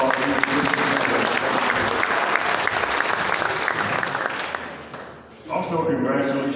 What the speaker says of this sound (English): Give this kid a big round of applause.